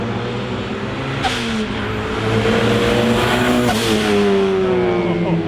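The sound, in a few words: built high-compression turbo 1.6L rear-wheel-drive car on test drive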